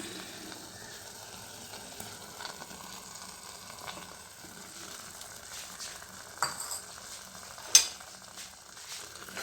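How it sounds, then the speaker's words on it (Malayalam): Curd being stirred into pineapple pachadi in a pan for a Kerala sadya dish gives a soft, steady wet scraping and faint simmer, quiet and close, with a couple of sharper clicks of the spoon against the pan. "നല്ലപോലെ ഇളക്കി യോജിപ്പിക്കാം."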